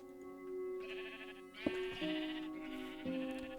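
Sheep in Minecraft bleating in a few drawn-out, wavering calls, one after another over a few seconds, clear and fairly close, with a short sharp click in between and no talking.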